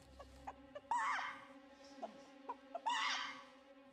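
Chicken clucking in short bursts, with scattered soft clucks and two louder squawking calls standing out against a quiet background, no talking.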